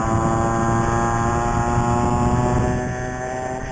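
A CAG 49cc pocket pit bike engine holds a steady, buzzing drone with strong harmonic tones close by, easing slightly lower toward the end; no talking.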